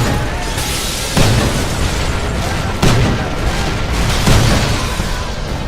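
Explosions in the open-world video game Mercenaries, with three heavy booming blasts at regular intervals over a dense, rumbling background of game action and gunfire.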